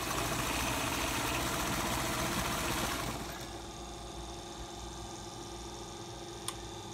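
Pfaff 260 sewing machine running a zigzag stitch: a steady, close, mechanical whirr with fast ticking that runs loudly for about three seconds, then drops to a quieter hum with a single sharp click near the end.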